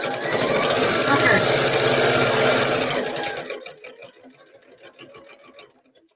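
A sewing machine stitches fabric for a drawstring bag with a fast, steady mechanical whir for about three seconds, then slows to a few faint ticking stitches as it stops.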